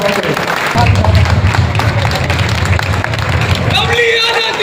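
A crowd at a Kshatriya community gathering in Purnia's Kala Bhawan claps loudly to welcome a member of parliament. Heavy applause mixes with booming low rumble and crowd noise, and a voice rises through it toward the end.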